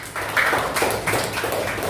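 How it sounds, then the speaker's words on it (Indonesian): A classroom of students applauding together at the end of a lesson, a brief burst of scattered clapping that swells and fades over a couple of seconds with no talk. "Tepuk tangan untuk semua teman-teman di kelas ini."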